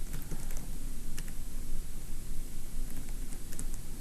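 Typing on a computer keyboard while writing code, a steady patter of soft clicks running through the whole stretch at moderate volume with no voices.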